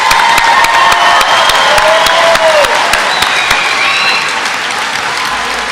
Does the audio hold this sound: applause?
yes